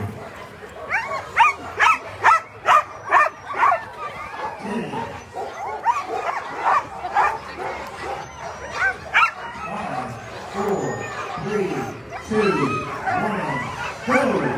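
A team of 18 Alaskan Husky sled dogs barks and yips at the start line of a 4th Avenue sprint race in Anchorage, with rapid, loud, overlapping barking that later turns into higher whining yelps amid crowd chatter.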